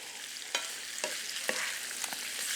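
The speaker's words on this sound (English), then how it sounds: "All right, so just mix that up good." A spoon stirs a beef sausage and vegetable bake mixture in a pan, giving a few soft scraping strokes over a faint sizzle, close and without talk.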